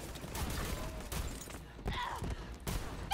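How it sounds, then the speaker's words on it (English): An explosive pistol in Borderlands 3 fires several bursty, crackling shots in quick uneven succession, mixed with game effects and a voice talking at moderate loudness. "I say that as I'm using an explosive pistol"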